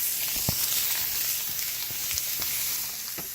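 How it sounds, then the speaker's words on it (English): Steady, crackling sizzle of food frying in hot oil, close up, with small pops scattered throughout. "sizzle, good sizzle"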